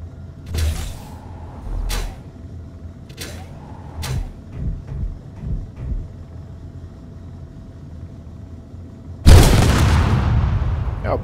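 A warhead-style explosion in Space Engineers bursts loud and broadband near the end, after a string of scattered thuds, clanks and rumbling impacts.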